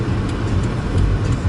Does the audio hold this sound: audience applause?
no